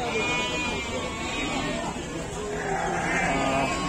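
Sheep bleat amid the crowd at the Glenmore livestock market, where Sopas, Merino-cross, Texel and Dormas breeds are traded; calls rise over steady market chatter and people talking nearby.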